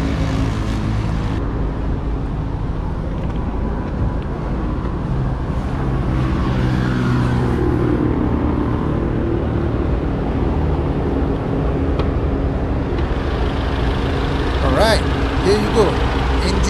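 A Volkswagen Golf GTI Clubsport with its EA888 engine running, a loud steady idle rumble heard close with the hood open, while someone talks over it throughout.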